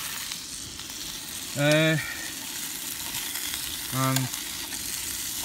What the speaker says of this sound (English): sausages on the way, cooking rather nicely